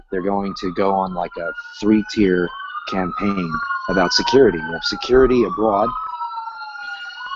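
Police sirens pass outside a home, wailing loudly and steadily under a person talking nearby.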